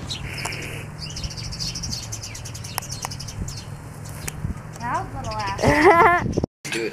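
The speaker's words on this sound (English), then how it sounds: "There's a bird fight under my car." Birds scuffle under a parked car at a drive-through, with rapid chirps and a flurry of wingbeats rising near the end over steady background hum, while people talk nearby.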